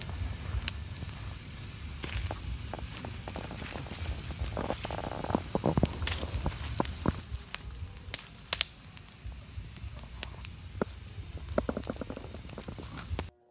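A wood fire crackles steadily under bamboo being heated for cooking milkfish paksiw outdoors, with irregular pops and snaps over a constant low rumble and hiss throughout.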